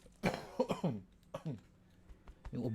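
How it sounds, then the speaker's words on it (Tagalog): A person coughs and clears their throat several times in short, harsh bursts, close and fairly quiet, with brief gaps between fits. "Yung ubo ko, andyan pa rin."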